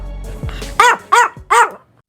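A meme dog barks in its distinctive voice: a short low yip, then three loud, evenly spaced barks, close and alone with no talking.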